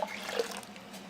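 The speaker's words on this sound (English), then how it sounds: "I'm going to add my sugar water." Dissolved sugar water pours into a bucket of home-brewed pineapple sour beer, a continuous soft splashing wash of liquid, close and steady.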